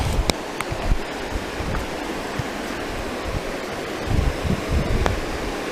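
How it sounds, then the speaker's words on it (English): A waterfall rushes into a river at a camping spot, a steady broadband roar of falling water heard up close and continuous, with a few faint clicks and taps over it and no talking. "All right, we're right underneath that waterfall."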